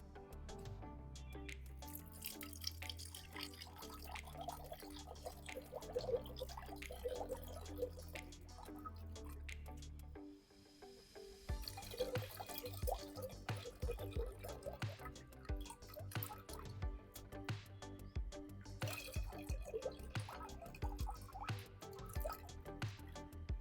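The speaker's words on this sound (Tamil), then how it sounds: "இப்போ புளியை வந்து வடிகட்டிக்கலாங்க." Tamarind water strained for Tamil-style green tamarind rasam trickles and drips steadily into a vessel, a soft continuous liquid patter with no talk over it.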